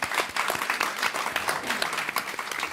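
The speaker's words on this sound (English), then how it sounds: "Give that a round of applause." Audience applause at an agriculture panel discussion on resilience and climate solutions, a dense, steady patter of many clapping hands heard fairly close for a few seconds.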